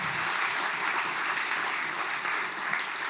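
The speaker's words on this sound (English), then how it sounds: "That deserves a round of applause." Steady, dense applause from a large audience fills the space, continuous and even throughout, with no talking over it.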